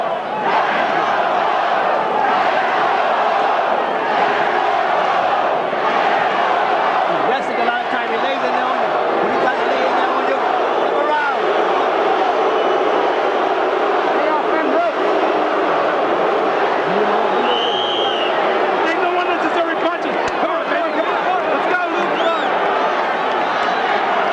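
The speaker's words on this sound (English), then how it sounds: "The other half of the crowd, or 2/3 of the crowd, started to boo" A dense, loud boxing arena crowd at a Holyfield versus Bowe heavyweight fight, roaring steadily with chanting and booing throughout, a constant wall of massed voices with no pauses.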